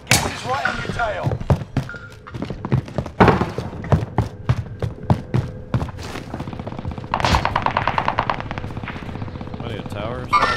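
Gunfire in Call of Duty Warzone quads on Fortune's Keep, MP5K and KAR98K in play, with loud repeated shots and bursts throughout, mixed with players talking over the action.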